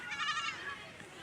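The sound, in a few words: goats returning home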